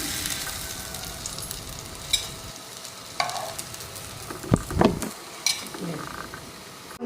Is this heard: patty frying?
yes